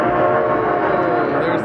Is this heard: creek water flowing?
no